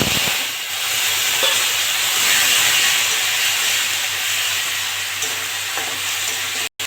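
Ginger and tomato fry in hot oil with whole spices (cinnamon, cloves, cardamom, bay leaf) for a vegetarian potato and soya dish, a loud continuous sizzle and hiss close up, with a sharp cutoff at the end.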